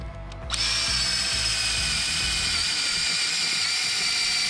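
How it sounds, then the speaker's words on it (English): A motorized auger drills a hole in the ground, starting up and running steadily with a high whine over a low rhythmic rumble, close and continuous. "I always try to drill that hole as deep as I can get it to"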